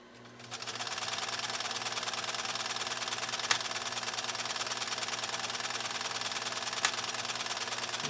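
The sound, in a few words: PFAFF 332 sewing machine stitching a pattern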